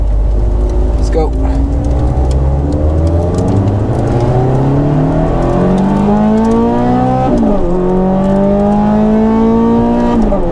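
A Ferrari 430 Scuderia engine screams loudly from close by as it accelerates through rising gear pulls, each pitch sweep climbing before a quick shift, with a voice talking over the engine.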